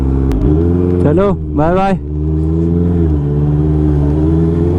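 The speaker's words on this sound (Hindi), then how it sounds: "now I am riding CBR 650 यार, एंड इसका एग्जॉस्ट पहले स्टॉक था लेकिन अभी चेंज हो चुका है" A Honda CBR 650 superbike with an aftermarket exhaust runs with a loud, steady, deep engine note while someone speaks briefly over it.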